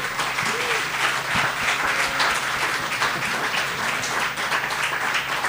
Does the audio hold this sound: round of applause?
yes